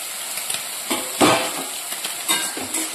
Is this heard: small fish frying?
yes